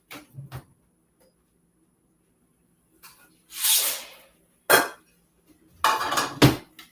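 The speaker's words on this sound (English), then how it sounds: "the pasta is going to go into my pot of boiling water." Dry pasta, eight ounces or half a bag, tipped into a pot of boiling water for macaroni, giving a few short clattering rattles and splashy hisses, loud and close, in separate bursts with quiet gaps between.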